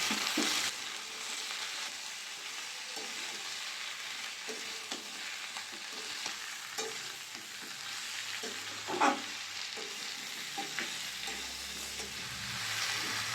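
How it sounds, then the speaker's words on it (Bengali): Vegetables for dudh shukto sautéing with salt, turmeric and spices in a pan: a steady, faint sizzle with occasional light stirring clicks, close and continuous. "ভালো করে মশলার সাথে সবজিগুলো কষিয়ে দেবো।"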